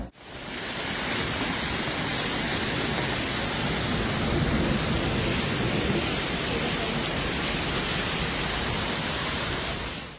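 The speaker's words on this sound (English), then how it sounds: "A short-lived but intense hailstorm hit the interior of the Valencian community in Spain on Thursday afternoon" Intense hailstorm over Villar del Arzobispo in inland Valencia, Spain: a dense, unbroken roar of hailstones battering surfaces, loud and steady throughout without letting up.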